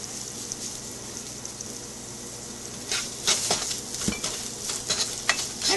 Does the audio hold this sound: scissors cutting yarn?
no